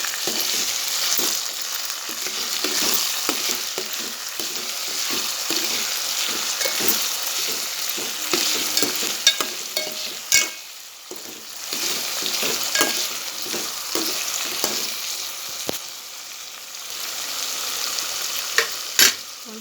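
Brinjal masala curry stirred in a pan, a steady sizzle with repeated spoon scrapes and stirring strokes running throughout, close and fairly loud with no voices.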